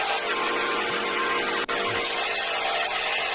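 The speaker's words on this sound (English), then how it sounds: "we're going to work our way down to 120 grit with the belt sander" A belt sander grinds a knife blade made from a file, producing a continuous loud, dense whine and rasp that barely dips for a moment midway, with no voices.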